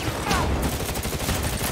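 Rapid gunfire from the video game CrossfireX, a dense fusillade of overlapping shots rattling continuously for nearly two seconds at close range, with faint talk underneath.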